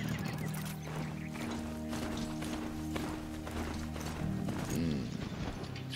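Rhythmic clip-clop of a robot horse's hooves trotting close by in Horizon Zero Dawn over a droning game soundtrack, with a brief whinny-like sound near the end.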